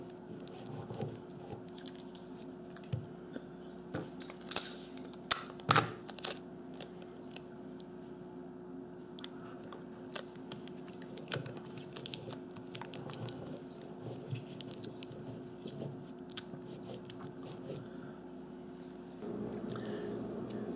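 Reinforcement tape being pulled and pressed onto a homemade battery pack of AA cells, with irregular close crackles, snips and taps scattered across the stretch over a quiet background hum, with no speech.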